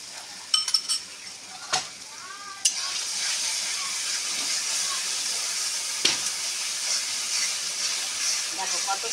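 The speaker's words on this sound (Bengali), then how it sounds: "দেখো কত সুন্দর মশলাটা ভাজা হলো," Spice masala with homemade yogurt fries in a pan over a clay stove, giving a sharp hiss that settles into a steady, loud sizzle, with a few clanks of a utensil near the start.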